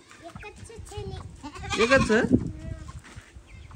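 Goats bleat in a village farmyard, a couple of wavering calls rising near the middle and mixing with people talking close by throughout.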